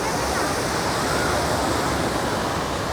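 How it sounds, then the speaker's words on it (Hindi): Waterfall pouring at a bathing ghat on the Vaishno Devi pilgrimage route, a dense, constant roar of rushing water that fills the scene at an even, loud level without pause. "देखिए झरना बह रहा है सामने से"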